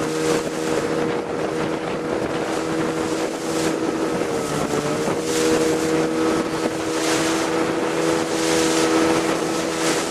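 A motorboat engine drones steadily and loudly throughout, mixed with rushing wind and water noise.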